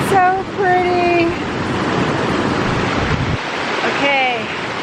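A mountain stream rushes steadily beside a hiking trail, its broadband flow close and constant for the whole stretch, with brief voice-like tones rising above the water near the start and again toward the end.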